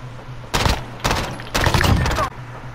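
Gunfire in the game Call of Duty Modern Warfare, heard as three loud bursts of rapid shots in close succession, each lasting about half a second, over a low background hum.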